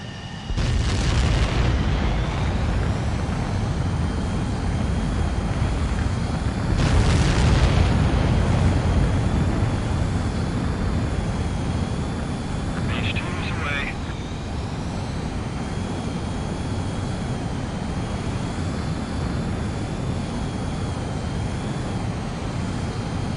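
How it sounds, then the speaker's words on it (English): Fighter jet takeoff and launch in the Ace Combat 7 video game, a loud continuous engine roar with two heavy booming surges early on and a brief higher whine partway through. "begin takeoff sequence."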